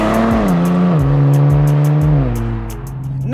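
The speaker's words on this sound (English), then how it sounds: "Step on the throttle and the twin turbos spool up, forcing you back in your seat." A 2024 Nissan Z NISMO with a twin-turbo engine accelerates hard up through the revs, with one gear change. The loud, close engine note climbs steadily and carries no talk.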